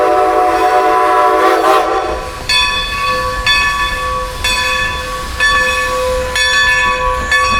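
Strasburg steam locomotive number 90 rolls past loud and close, its whistle sounding in long repeated blasts over a steady rumble and hiss of the train.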